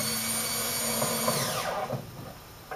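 A power drill drives screws into a computer case, a steady high whine that winds down partway through, followed by brief handling clatter, close and with no talking.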